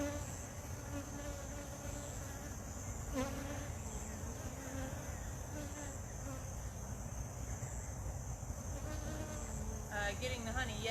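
Honey bees buzz steadily nearby, a continuous droning hum with wavering pitch as individual insects pass close, with no voices over it.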